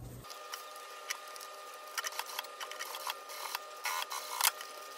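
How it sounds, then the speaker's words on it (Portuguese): A sewing machine stitches along the edge of a fabric school backpack in uneven clattering runs that pick up speed, close and clear with no talk. "E vou fazer uma costurinha aqui bem na bordinha"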